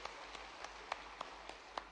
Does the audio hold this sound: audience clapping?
yes